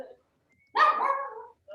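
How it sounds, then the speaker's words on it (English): Dogs give one sustained, close bark-like yowl lasting about a second, followed by a short yip, with quiet gaps around them during a council meeting. "And my dogs are going to start again."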